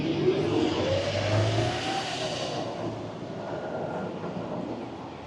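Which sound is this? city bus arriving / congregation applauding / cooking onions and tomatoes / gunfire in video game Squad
city bus arriving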